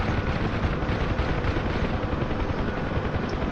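Inside a Huey helicopter in a video game, the rotor and turbine keep up a loud, unbroken buzzing roar, a constant heavy drone with faint gritty texture and no speech over it.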